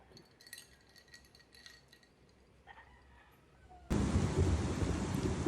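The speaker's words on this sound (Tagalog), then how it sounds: "ang lakas ng ulan" Heavy rain outdoors in the Philippines comes on suddenly as a loud, dense broadband roar after a quieter stretch of faint clinks and distant rumbling, with no voices heard.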